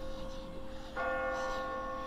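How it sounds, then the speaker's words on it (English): Church bells ringing in the game The Walking Dead Season 1, a single tonal bell strike joining a faint lingering hum, sustained and fairly loud with no speech. "I just got scared by those bells"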